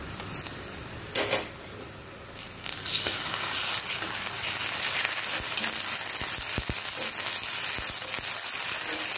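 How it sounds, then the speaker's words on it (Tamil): Ginger garlic paste sizzling with sautéed onions in a pan for a South Indian paneer capsicum gravy, a steady close frying hiss with a few scrapes and stirring clinks, a louder sizzle burst as the paste goes in. "இப்போ நம்ம இஞ்சி பூண்டு பேஸ்ட் போட்டுக்கலாம்"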